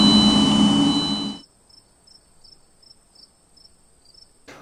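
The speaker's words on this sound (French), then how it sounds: "Donc, les bruits de criquets" Crickets chirp in a steady pulsing rhythm, faint and thin, after a loud burst of broadband noise cuts off abruptly; the chirping continues alone in near-silence.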